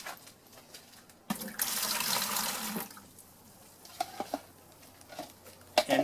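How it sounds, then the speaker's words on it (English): Nutrient solution mixed with Epsom salt pours into a hydroponic bucket in a greenhouse, a steady splashing stream for about a second and a half that fades into light drips and small sloshes. "And then basically I'm going to pour that into my bucket."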